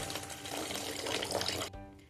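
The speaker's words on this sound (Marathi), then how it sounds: "पाणी घालून उकळी काढून घ्यायची" Water poured into a simmering spiced curry for Maharashtrian shev bhaji, a steady close splashing rush lasting most of the moment before cutting off abruptly.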